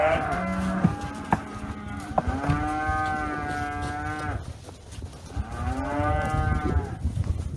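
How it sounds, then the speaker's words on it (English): Heifers on a ranch let out three long, loud moos in a row, close by, each a drawn-out bellow with short pauses between. "here's just a small sampling of a bunch of our heifers that we're going to take in"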